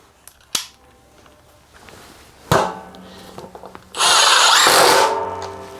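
A Milwaukee M18 Fuel Gen 4 impact driver (2953) set to screw mode, run at speed 3, drives a small screw into a board: sharp clicks and taps, then a loud, steady whirring burst that stops suddenly.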